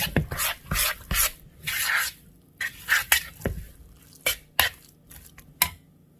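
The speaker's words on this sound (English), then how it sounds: "All right, we're just going to stir all that up." A spoon stirs onion fritter batter in a bowl, making repeated scraping and rubbing strokes with short clinks against the sides in an uneven rhythm, close and clear with no speech.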